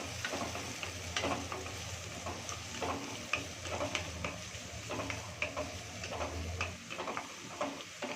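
Chopped onions sautéing in a hot pan give a steady, close sizzle, with frequent scraping and ticking from stirring throughout.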